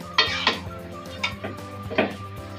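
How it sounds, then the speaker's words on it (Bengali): Chicken pieces being stirred and sautéed in a pot for a free-range chicken curry, with several distinct scraping clinks of a utensil against the pot over a low steady sizzle, fairly close. "এখন ভালোভাবে মাংসটাকে কষিয়ে নেব।"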